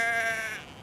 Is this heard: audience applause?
no